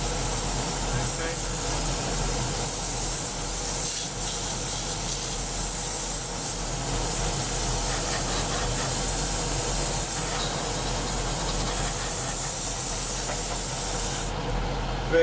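An airbrush or spray gun sprays primer onto the wing of an Academy 1/48 F-4B Phantom model aircraft. The hiss is steady, close and unbroken and lasts nearly the whole stretch before cutting off at the end.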